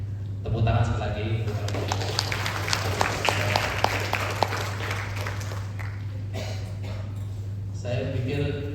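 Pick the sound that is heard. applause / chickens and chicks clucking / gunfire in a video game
applause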